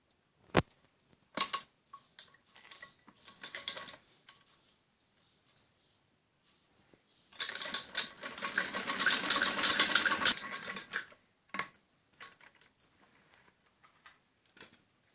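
Sewing machine stitching the side seams of a kameez runs in one sustained burst of a few seconds amid quiet handling clicks and taps of fabric, fairly faint and close.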